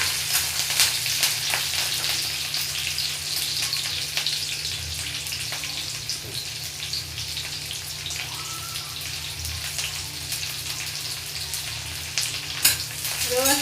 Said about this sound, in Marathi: मिरची चांगली फ्राय झाली की आपण त्यात कढीपत्ता घालूया